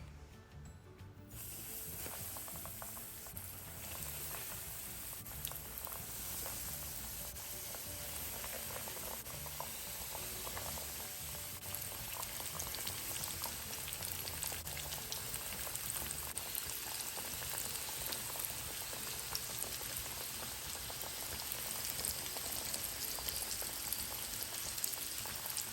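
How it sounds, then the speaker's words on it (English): Salmon nuggets frying in hot oil, a steady dense crackle and bubbling heard close and fairly quiet, continuing unbroken without any voices. "So let's fry them now."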